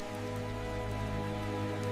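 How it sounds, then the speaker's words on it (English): Steady rain falls in a dim, quiet wetland setting, a continuous even patter on water and surfaces, moderately faint with a constant low hum underneath and no voices. "Rain lowers the scent and sound floor, tilting the advantage firmly towards the patient hunter."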